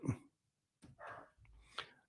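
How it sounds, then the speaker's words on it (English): A dog gives a few short, muffled barks and whimpers indoors, fairly quiet and spaced apart, with a soft breath between them. "my dog is barking at someone"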